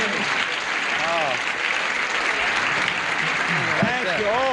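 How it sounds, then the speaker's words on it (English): A 1975 television studio audience applauds warmly for a game-show host, a dense, steady clatter of clapping that fills the room throughout while he speaks over it. "You get a lot more applause when you limp, don't you?"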